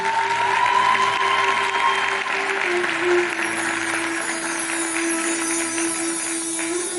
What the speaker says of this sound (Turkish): Alkışlarınız güzel solistlerimiz için